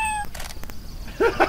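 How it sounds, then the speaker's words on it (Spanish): A cat meows from a cat-gun mod in the video game Left 4 Dead 2. There are a couple of short, mid-pitched cries in the second half, set against game noise and brief clatter. "¡Miau!"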